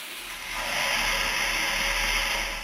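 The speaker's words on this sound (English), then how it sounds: "When water hits burning oil, it bursts into thousands of droplets of burning steam." A steady hiss of steam swells in after a brief quiet and holds, sizzling evenly as water strikes burning oil.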